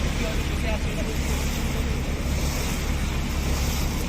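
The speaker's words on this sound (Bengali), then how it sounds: "জলের স্রোত তার আওয়াজ দেখুন" River water rushes past a launch crossing a Sundarbans river among mangroves. It makes a constant, loud, broadband wash with wind buffeting the microphone and no pauses.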